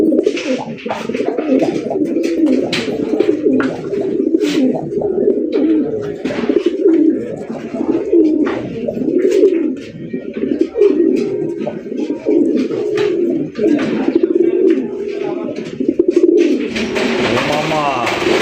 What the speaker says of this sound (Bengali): দেখেন কতটা জিদ্দি কবুতর, হাই ফ্লায়ার কবুতর